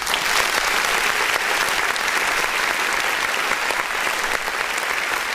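A live audience claps steadily and densely at an underground music review stream, a continuous wash of hands throughout with no voices over it.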